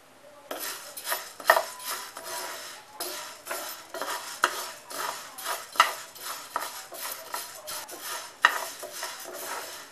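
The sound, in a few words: wheat being roasted and stirred in a pan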